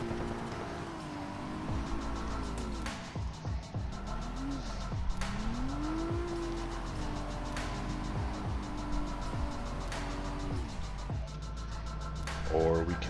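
Car drifting after a clutch kick, engine revving up and down in repeated surges with sharp gear and throttle changes, heard close from inside while a person talks over it.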